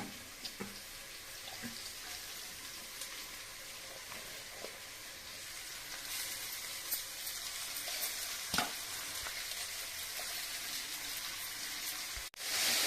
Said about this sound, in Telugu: ఇప్పుడు నేను తీసుకున్న ఇది తోటకూర. ఈ తోటకూరను వేస్తున్నాను.